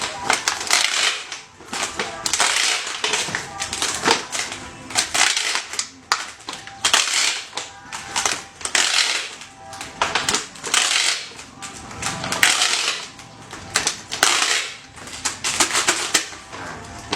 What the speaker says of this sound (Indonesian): Sambil ditarik lakbannya kuat.